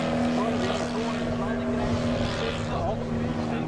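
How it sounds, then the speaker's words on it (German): A large-scale RC aerobatic Pitts biplane with a boxer engine and 2.43 m wingspan, idling on the ground: a steady, loud, smooth drone of engine and propeller with a constant pitch, close by and continuous throughout. "Das ist rein Propellergeräusch, das Sie gerade hören."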